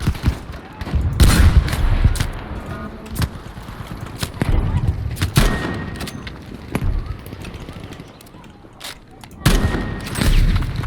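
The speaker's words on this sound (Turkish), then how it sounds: "Grenade! Watch it!" Battlefield V combat with a grenade blast and rapid gunfire, sharp close booms and bursts of shots scattered through the scene, with players talking over the noise.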